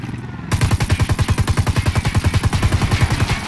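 A heavy machine gun in the video game Ghost Recon Wildlands fires a loud, sustained burst of rapid, evenly spaced shots, starting abruptly after a brief pause and continuing to the end.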